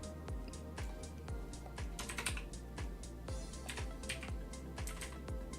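Rapid clicking of keys on a computer keyboard, close and fairly quiet, with irregular bursts of keystrokes and short pauses, heard alone without talk.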